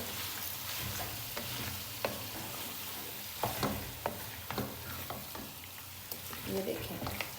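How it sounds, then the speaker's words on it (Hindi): Chicken karahi with cream frying in a pan, a steady close sizzle broken by repeated scraping clicks and knocks of a spoon stirring, loudest in short bursts near the middle and end. "अब क्रीम डाल के भी हम इसकी हल्की सी सिर्फ 1 से 2 मिनट के लिए भुनाई करेंगे ऐसे।"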